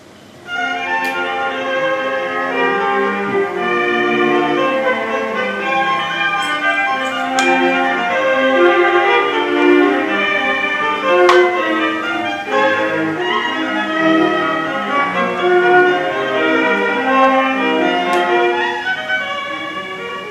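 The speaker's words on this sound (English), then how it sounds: "It's a string trio," A string trio's sustained, layered tones weave together in a dense, continuous texture, with a few sharp bright accents, played without any talking.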